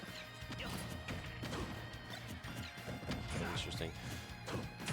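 Snake's grenades bursting in the video game Super Smash Bros. Ultimate during a tournament match, a rapid run of crashing impacts and thuds under busy game noise and chatter.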